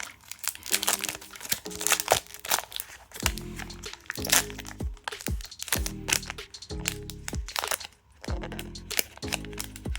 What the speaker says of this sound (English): how can you struggle to open a pack of cards?